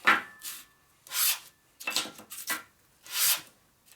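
A part from a 1946 Harley-Davidson Knucklehead engine is hand-sanded flat in repeated rasping strokes, five separate scrubbing bursts with short pauses between, close and fairly quiet with no talking.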